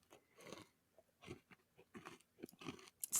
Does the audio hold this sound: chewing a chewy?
yes